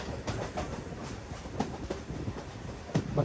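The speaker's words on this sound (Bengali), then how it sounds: "আমাদের ট্রেন ছেড়ে দিল কাশিমবাজার স্টেশন" A passenger train rolls along just after leaving Kasimbazar station in Murshidabad, with a faint, steady rumble and scattered wheel clicks and knocks heard from inside the carriage.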